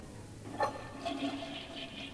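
A toilet flushes behind a closed bathroom door, starting as a short surge and settling into a steady rush of water that stays fairly faint and muffled for a couple of seconds.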